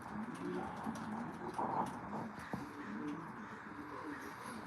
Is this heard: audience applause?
no